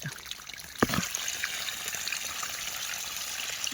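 Irrigation water trickles and flows steadily from a pipe into a maize field, a faint continuous watery hiss with one brief louder splash near the start.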